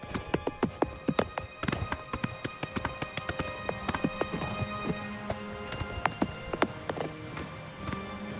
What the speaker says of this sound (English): the clop, clop, clop sound is brilliant.